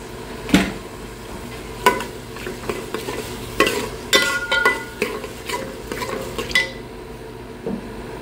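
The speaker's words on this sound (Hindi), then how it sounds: "अब इसमें डालेंगे और इसको अच्छे से पहले फ्राई करेंगे" Dal lentils fry in a pot on a stove while a metal spoon stirs and scrapes repeatedly, giving sharp clinks and knocks over a steady background sizzle.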